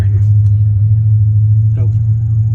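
A race car engine running in a low, steady idling rumble, loud and close throughout, with brief voices over it.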